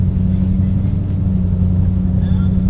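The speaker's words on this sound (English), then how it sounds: "All right, we're gonna go for a quick spin around the block." Car fitted with an HKS silencer exhaust cruising around a residential block, a steady low engine drone with strong low harmonics holding constant throughout, heard from inside the cabin.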